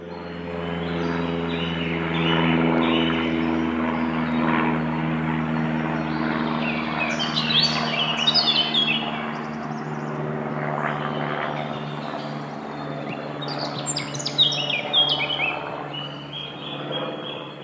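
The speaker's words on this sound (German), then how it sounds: "Das dritte Beispiel hatte bereits zwei Klangebenen, die du zugleich wahrnehmen kannst. Vögel im Wald und ein Flugzeug" A propeller airplane drones steadily overhead as birds chirp and twitter in a forest, their calls in scattered bursts above the low engine hum.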